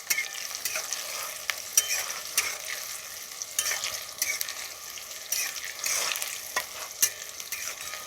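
Cashew-shaped Bengali nimki dough snacks fry in hot oil until lightly reddish, giving a soft, continuous sizzle broken by scattered sharp crackles and the scrape of stirring.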